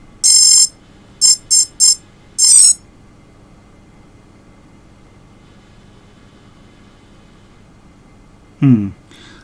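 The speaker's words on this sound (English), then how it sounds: "That noise that you heard was coming from all the speed controllers which just initialized" A quick series of high electronic beeps, one long tone then short bursts, followed after a pause by a brief lower rising chirp, close and loud: quadcopter drone speed controllers initializing.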